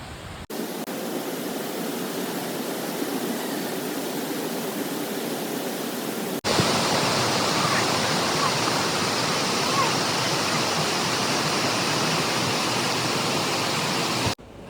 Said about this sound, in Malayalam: ആടെ ഒരു വലിയൊരു വെള്ളച്ചാട്ടം കാണുന്നുണ്ട് ഇവിടുന്ന്.